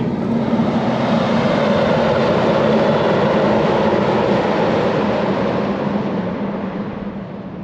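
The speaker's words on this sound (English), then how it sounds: "We're just going to wait for a road train to go past." A heavy road train truck roars past in the Western Australian outback, a loud sustained rumble and broad noise that fades slightly toward the end.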